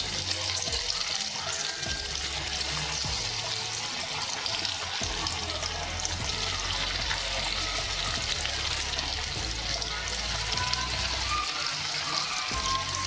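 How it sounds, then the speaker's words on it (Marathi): Soya chunk cutlets shallow-fry in hot oil in a pan over low gas, giving a steady, even sizzle and crackle that continues without pause at moderate volume. "होस्तोवर आपल्याला तळून घ्यायचं आहे, गोल्डन ब्राऊन होस्तोवर"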